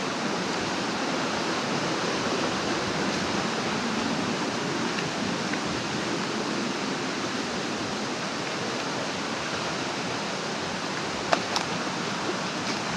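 Loud, steady rush of a river swollen after rain in Southern Leyte, a continuous broadband roar running unbroken throughout, with no voices and only a faint knock near the end.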